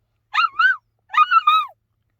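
A young child imitates a dog, giving two short voiced barks about half a second apart, close and clear, with nothing else in the background.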